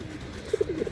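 Pigeons coo at a pigeon farm in a short run of soft, close, throaty calls that rise and pulse quickly one after another.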